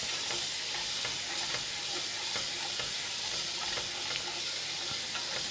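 A lemon brown butter sauce bubbles and sizzles softly in a pan used for scallops, a steady faint frying hiss with light stirring ticks throughout.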